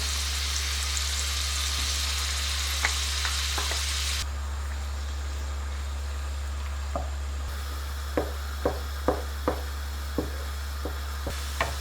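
Minced beef and tail fat frying in a pan, a constant hiss of sizzling with scattered soft pops and stirring clicks, close and steady throughout, with no talking.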